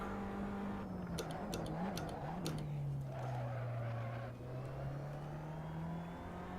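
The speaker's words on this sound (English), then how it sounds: "One thing I have done actually is set the tyre skid volume to 120" A Formula Abarth open-wheel race car in Assetto Corsa drones with a steady engine tone while its tyres squeal and skid in short repeated bursts through corners, the skid noise boosted loud in the mix.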